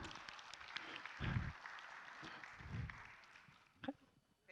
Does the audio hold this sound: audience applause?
yes